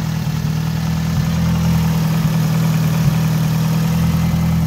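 A fully built Mitsubishi Evo VIII with a 2.3 stroker engine idles steadily close by, a deep, even rumble with a slightly lumpy pulse that holds constant throughout, with no talking.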